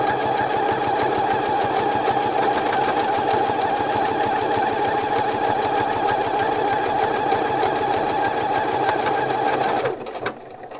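A sewing machine stitches shirt fabric for a summer shirt, running loud, close and at a steady rapid chatter for about ten seconds before stopping.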